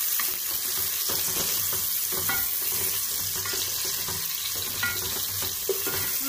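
Onions sautéing in a pan for Kozhikode-style beef biryani, a steady broadband sizzle with scattered stirring scrapes and clicks, close and continuous without talk.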